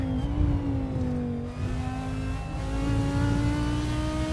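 An Audi R8 GT4 race car engine in the Assetto Corsa racing game on the Vallelunga track drones steadily, its pitch dipping briefly then climbing again as it revs; no talking.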